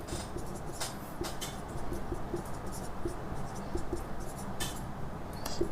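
A pen scratches steadily across paper while an equation is written out, with short, soft strokes and small ticks in a quiet room.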